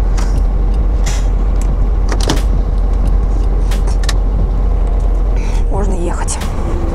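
A long-haul truck engine idles with a steady, loud low rumble before setting off, with occasional clicks and knocks in the cab, while someone talks over it.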